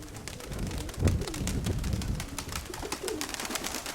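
Soft pigeon cooing and bird calls against a steady outdoor background, with some rustling and flapping near the start.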